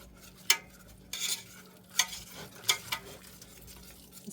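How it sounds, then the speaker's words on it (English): Whisking flour into onions and celery in a soup pot, with scraping stirs and sharp metal clinks against the pot at irregular moments over a faint sizzle, close and fairly quiet, no voices. "I'm just going to whisk this in real quick with the onions and the celery"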